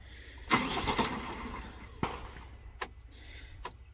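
A New Holland Workmaster 105 4x4 tractor, a 106 HP machine, cranks and fires up with a sharp burst, then settles into a rough idle broken by a few clanks and knocks, heard fairly close.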